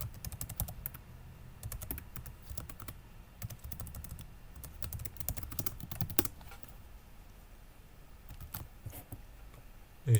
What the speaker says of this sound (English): So I'm going to type the import manually.